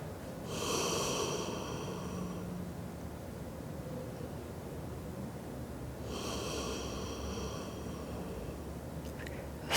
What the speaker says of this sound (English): Take about 3 more breaths here. Very slow, very mindful, soft breaths.